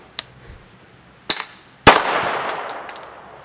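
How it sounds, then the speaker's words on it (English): A Dynatec blank-firing airsoft grenade is thrown and lands with a couple of sharp clacks, then goes off in one loud, close bang that fades into a rattling hiss. "Okay, that was blank firing grenade."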